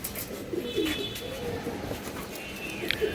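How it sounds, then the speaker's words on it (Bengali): Giribaz pigeons coo steadily close by in a low, continuous murmur, with a few brighter chirps and clicks near the end. "এটা আফসান বাঘা কবুতর"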